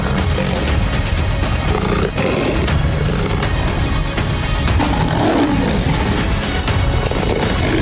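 Lions roar and snarl through a fight with hyenas on the savanna, a loud, continuous, dense brawl of growls and roars with no quiet gaps.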